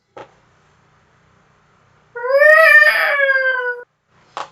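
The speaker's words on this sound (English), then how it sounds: "Oh, it's a kitty." A single drawn-out, wavering cat meow rises and falls for about a second and a half between faint knocks, fairly close and loud, with no talk over it.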